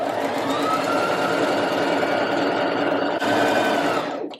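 A sewing machine runs a gathering stitch on a puff sleeve for a dress, a loud, continuous mechanical whir with a brief dip near the end before it cuts off.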